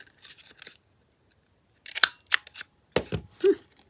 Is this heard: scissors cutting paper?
yes